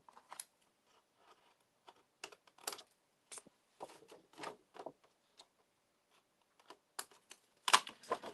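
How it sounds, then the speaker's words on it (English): Scissors trimming excess paper from a floral scrapbook layout, a series of quiet, close, sharp snips and crisp paper rustles separated by short pauses. "I'm going to go ahead and cut off the excess now"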